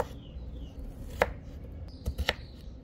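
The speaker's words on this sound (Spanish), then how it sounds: "necesitarás conseguir 3 limones y luego lo picas en varios trozos" Lemons being cut into several pieces on a board: a handful of sharp knife chops, one near the middle and a quick cluster toward the end, over quiet room noise.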